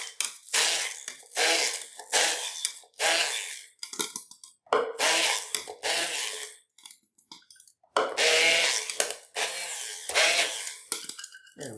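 An immersion blender with a chopper attachment chops garlic and herbs for persillade, whirring in repeated short bursts of about a second each with brief pauses between, close and fairly loud.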